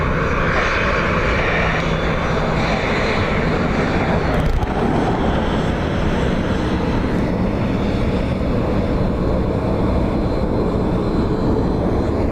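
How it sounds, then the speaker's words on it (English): A Virgin Atlantic Airbus A330neo jet departs Dublin Airport with a loud, continuous engine roar that fills the whole stretch, steady and close, with no voices. "that was an A330neo Virgin Atlantic off to Boston."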